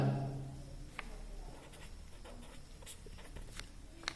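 A pen scratching out a maths solution on paper, with soft close strokes and short taps in an uneven rhythm and no talking.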